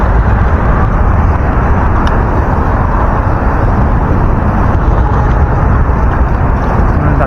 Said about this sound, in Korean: 차들이 많죠.